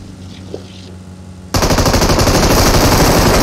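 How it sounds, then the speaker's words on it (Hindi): Automatic gunfire in a competitive shooter video game starts abruptly after a quiet stretch and continues as a loud, rapid, sustained burst of shots. "मैं नीचे करके गोली चला रहा था, सारी गोली आ गई"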